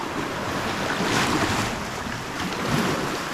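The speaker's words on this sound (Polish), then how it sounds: "za duże fale są i za dużo miota" Ocean waves surge and break near the shore off Siquijor in the Philippines, a steady rushing wash with wind buffeting the microphone and no voices.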